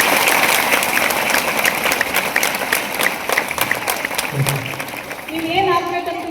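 Audience at a women's gathering in Bagalkot clapping together, a dense burst of applause that fades toward the end as a voice begins speaking over it.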